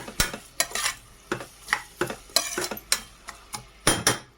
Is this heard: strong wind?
no